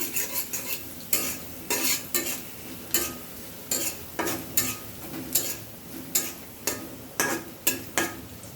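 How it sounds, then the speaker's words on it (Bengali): A spoon stirs salted fish curry in a pot, scraping in a steady repeating rhythm of sharp, close strokes over a low sizzle, with no voices. "লবণ দিয়ে এটাকে হচ্ছে ভালোভাবে মিশিয়ে নিচ্ছি"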